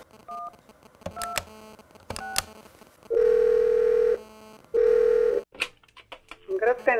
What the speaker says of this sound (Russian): Позвонив на единый номер, надо набрать добавочный номер Электрогорска